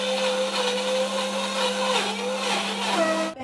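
Mixer grinder blending grapes with honey for juice, a loud continuous high-pitched motor whine with churning noise, steady for about three seconds before stopping abruptly.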